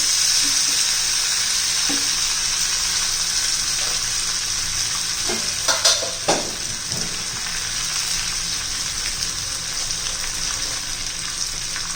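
Chopped curry leaves, asafoetida and coriander frying in a pan for carrot chutney: a continuous close sizzle and hiss, with a few sharp crackles and pops partway through.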